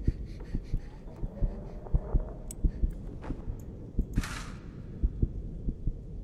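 A horror game's heartbeat thumps in a steady, fairly quick rhythm, low and close, with faint background rustles and a brief hiss partway through.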